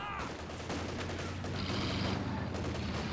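Battlefield small-arms fire in the real-time strategy game Company of Heroes 2, a continuous crackle of rifle and machine-gun shots under a low rumbling ambience, steady and moderately loud throughout.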